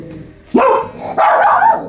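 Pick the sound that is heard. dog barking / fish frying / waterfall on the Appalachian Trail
dog barking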